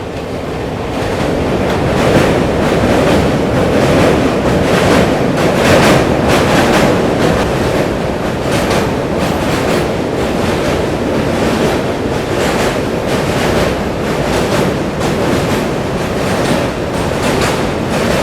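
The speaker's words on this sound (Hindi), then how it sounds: "ट्रेन अपनी जो है क्रॉस करने जा रही है दीघा ब्रिज, जो गंगा नदी के ऊपर बना हुआ है।" A long-distance express train crossing the Digha bridge over the Ganges at night, heard as a loud, steady roaring rumble with a faint rhythmic clatter of wheels and heavy wind buffeting, continuous and without voices.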